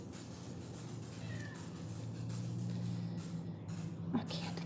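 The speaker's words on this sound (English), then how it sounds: "the cat wants some chicken" A pet cat meows faintly for chicken in a home kitchen, short mews in the background of low room noise.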